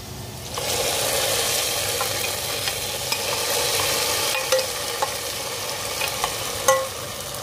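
Fried onions are tipped into a pot of daldah and stirred. A steady sizzle runs throughout, broken by a few sharp spoon clinks and scrapes against the pot, with no talking.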